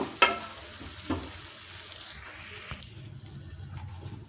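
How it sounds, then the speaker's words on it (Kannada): Grated carrot and vermicelli fry in ghee for payasam, a soft, quiet sizzle with a few clinks of the spoon near the start, fading to a faint hiss in the last second. "ಕ್ಯಾರೆಟ್ ಮತ್ತು ಸೇಮಿಯಾ ಇದೆರಡನ್ನು ಕೂಡ ನಾನು ಈಗ ಚೆನ್ನಾಗಿ ಫ್ರೈ ಮಾಡ್ಕೊಳ್ತಾ ಇದ್ದೀನಿ. ಅದೇ ತುಪ್ಪದಲ್ಲಿ ಸ್ವಲ್ಪ ಚೆನ್ನಾಗಿ"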